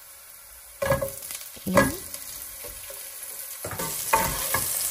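Ginger and then onion drop into hot olive oil in a pan for chicken arroz caldo, sizzling steadily with bursts of frying as each batch hits, stirred close up while a voice speaks briefly.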